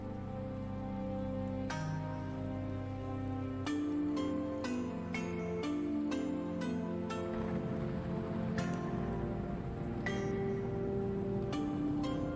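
Rain falling in the Universe For Sale video game, a continuous soft hiss of drops heard beneath sustained synth music with chiming notes, steady and fairly quiet.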